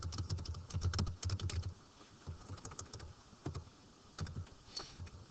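Computer keyboard typing in quick irregular bursts of clicks, close and fairly quiet, with short pauses between runs of keystrokes and no talking.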